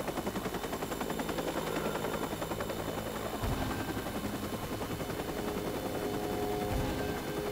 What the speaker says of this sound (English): Oh, that helicopter!